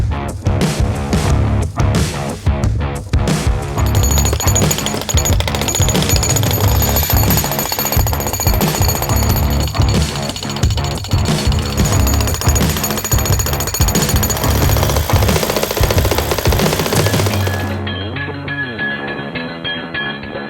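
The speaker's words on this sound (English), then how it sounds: "Should be good with a jackhammer" Jackhammer pounding a boulder on a rocky hiking trail, a loud, close, continuous rapid hammering that runs for most of the stretch, then cuts out, leaving a quieter idling hum.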